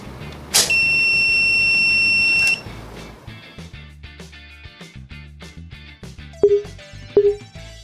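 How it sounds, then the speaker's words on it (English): An E3AK Bluetooth keypad door alarm sounds a loud, steady high-pitched buzzer tone for about two seconds, followed by short electronic beeps and clicks later on. "Alarm will be activated if door is left open."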